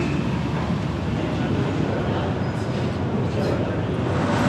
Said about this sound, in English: Look at this train. It has 3 tiers.